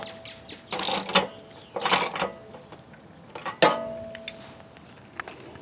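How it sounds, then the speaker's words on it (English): Socket wrench snugging the drain plug back into an RV water heater, a few close metallic ratcheting clicks and clanks in short bursts, with one sharper knock near the end. "we'll take our socket and go and snug it up"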